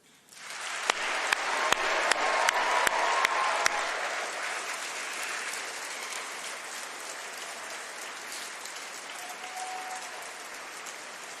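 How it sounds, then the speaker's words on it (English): Graduation ceremony audience of an engineering and physical sciences college bursting into sustained applause, with sharp nearby claps standing out early and the clapping continuing steadily, slowly fading over about ten seconds. "let's give them a huge round of applause and a very loud cheer to say thank you"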